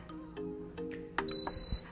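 An Instant Pot being set to air fry gives short electronic beeps and tones, a few spaced button chirps ending in a longer high beep, with faint handling clatter around them in a quiet kitchen.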